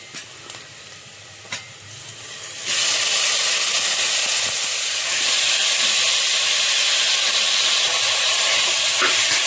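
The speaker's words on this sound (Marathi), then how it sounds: "फोडणीमध्ये आता आपण मटण टाकून घ्यायचंय।" Mutton goes into hot oil tempered with asafoetida and turmeric for a spicy curry, and after a few soft clicks a loud, hissing sizzle bursts in and carries on without a break.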